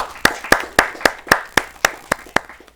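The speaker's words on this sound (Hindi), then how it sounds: "जोरदार तालियों से अभिनंदन किया जाए।" Audience at a Hindi poetry gathering claps to welcome a poet to the stage, heard as about ten distinct, evenly spaced claps close to the microphone, ringing briefly in the hall before fading.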